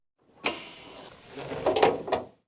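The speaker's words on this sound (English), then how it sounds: "Open the hood." The hood of a Honda Civic 1.6L swings open in a quiet garage, a latch click followed by a soft creaking lift and a couple of closer mechanical knocks, brief and fairly close.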